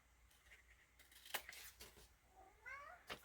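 A cat meows a few times up close, short rising cries in a quiet indoor room, with faint rustling around them.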